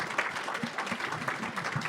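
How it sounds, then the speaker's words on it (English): An education conference audience in Las Vegas applauds its panelists, a brief burst of many hands clapping in a hall, moderately loud and continuous with individual claps faintly distinguishable. "Let's give a big round of applause for our panelists."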